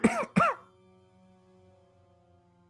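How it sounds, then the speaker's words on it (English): Two sharp coughs in quick succession, close and loud, followed by near silence with a faint low hum. "He starts coughing."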